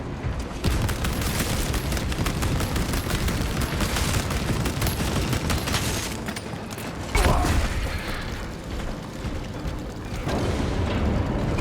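Sustained rifle gunfire in the Space Marine 2 video game, a dense rapid stream of shots with booming impacts and mechanical clatter, loud and continuous with a brief dip near the middle.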